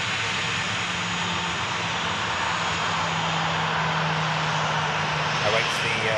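A Cessna light aircraft taking off along the runway, a steady broadband engine roar heard from a distance and holding constant throughout, with a low droning hum beneath it.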